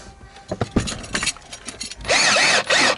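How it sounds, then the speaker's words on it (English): A cordless power drill run in a couple of short, loud bursts near the end while fitting a fire extinguisher in a Nissan R33 Skyline GTS-T, following quieter handling and clatter. "Grab my drill."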